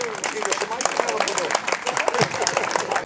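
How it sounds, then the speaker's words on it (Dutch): An audience applauds a singer at an open podium event in a castle: steady, dense clapping from a small crowd, with voices under it. "Dan is een applaus voor Annemarie Binder."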